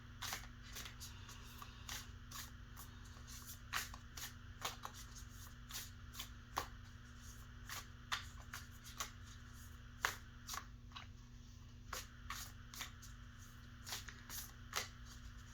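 Tarot cards are shuffled by hand in a quiet room, making soft, close, crisp riffling bursts that repeat at an uneven pace under a faint steady hum, with no talking.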